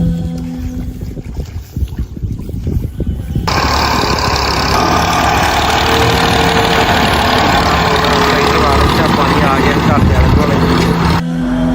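A tractor engine runs steadily and loud in a farm field, working plates through a mud-filled plot, with a sustained broadband rumble after a quieter opening with talk.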